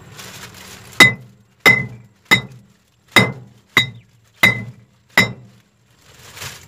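Seven sharp, loud clinks as a rescue knife's glass breaker strikes a thick glass liquor bottle, evenly spaced hard taps with ringing glassy tails, no breakage, faint handling noise between.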